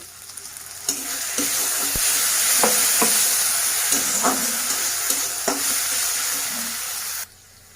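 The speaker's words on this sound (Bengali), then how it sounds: "এবার দিয়ে দিচ্ছি আদা রসুন আর কাঁচা লঙ্কার পেস্ট" Ginger, garlic and green chili paste sizzles steadily in a hot pan of oil, a loud continuous frying hiss with scattered stirring scrapes, then cutting off abruptly near the end; no talking.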